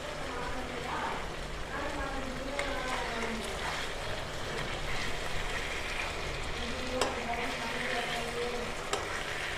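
Tandoori chicken pieces sizzle steadily as they fry and are turned in a nonstick kadai, with soft scraping and tapping from the utensil. Someone talks over the cooking.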